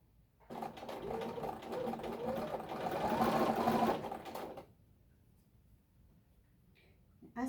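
A sewing machine stitches a quilt block for an improv log cabin pattern, running in one steady, close burst of a few seconds before stopping, followed by near quiet.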